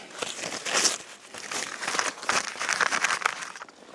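Old hunting magazine pages, found under a long-fallen tree, crinkle and rustle close up as they are handled, a continuous papery crackling with bursts of louder crumpling, no voices.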